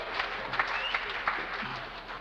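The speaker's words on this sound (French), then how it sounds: "On l'applaudit également, bien entendu." A crowd at a 1969 summer sports-club fête applauds a young woman being introduced, a steady wash of clapping with a few sharper claps standing out, no talk over it.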